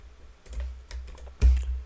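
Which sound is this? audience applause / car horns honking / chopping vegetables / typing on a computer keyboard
typing on a computer keyboard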